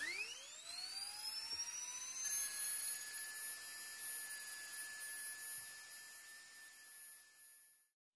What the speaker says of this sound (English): I have this grinding rotary tool, and I'm going to carve out the numbers now